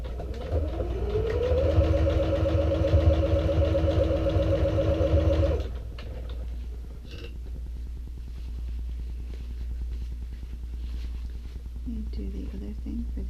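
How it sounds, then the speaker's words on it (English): A sewing machine stitching straight across the bottom gusset of a small fabric saddle bag hums in a steady, fairly loud run for about five seconds, then stops, leaving a low constant background hum. "then you're going to stitch right across there to create that bottom gusset."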